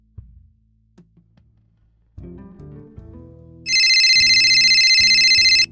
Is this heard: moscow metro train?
no